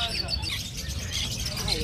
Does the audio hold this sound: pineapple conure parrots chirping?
yes